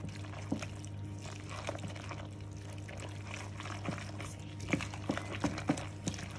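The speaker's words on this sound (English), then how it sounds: "mix around." Bare hands mix a Greek-style spinach and cheese filo pie filling with a splash of milk, making soft, continuous squelching and wet squishing close by, with a few sharper moist slaps near the end.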